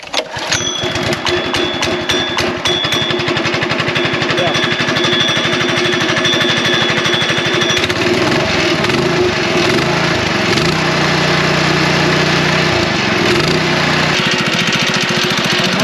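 A small gasoline engine on a wire-burying machine for laying an invisible dog fence is pull-started and keeps running with a loud, steady, rattling chug close by.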